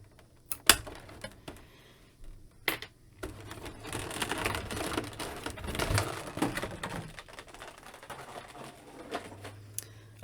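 A Jazwares Micro Galaxy Squadron Millennium Falcon toy comes out of its plastic packaging, with close crinkling, rustling and scattered clicks and snaps, some sharp, others soft; no voices.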